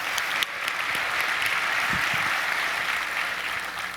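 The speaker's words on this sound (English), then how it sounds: "let's first give them a hand of applause to make this possible" Steady applause from a keynote audience at the Acumatica Summit, a dense wash of clapping hands that holds evenly for several seconds with no speech over it.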